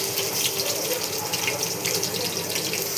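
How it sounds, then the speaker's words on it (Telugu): Tap water runs steadily into a kitchen sink while okra is washed, giving a continuous close splashing hiss with no pauses. "మంచిగా నీట్గా కడుక్కొని పోసుకొని పక్కన పెట్టుకోవాలి."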